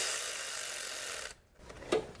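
A ratchet clicks rapidly and continuously while tightening bolts on a Ford Flex 3.5 EcoBoost water pump, then pauses briefly before a few louder, closer clicks.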